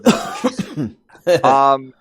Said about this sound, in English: all I hear is coughing